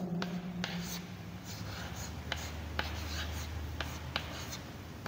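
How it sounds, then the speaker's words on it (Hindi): Marker or chalk writing on a board during a Hindi-language geography lesson about the Himalaya, Himachal and Uttarakhand, giving faint scratchy strokes in short bursts over a low steady hum, with no talk over it. "यहाँ पर लिख देता हूँ मैं"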